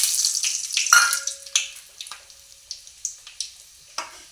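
Garam masala drops into hot ghee in a pan and sizzles loudly at first. The sizzle then settles into quieter crackling with scattered pops, and nobody speaks.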